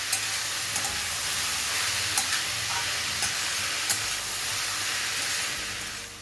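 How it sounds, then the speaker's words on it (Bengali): Shredded bottle gourd stir-frying in a wok over high flame makes a dense, steady sizzle with a few light spatula taps, easing off near the end, no voices. "এবার এর মধ্যে ঝিরিঝিরি করে কেটে রাখা লাউটা দিয়ে দেবো"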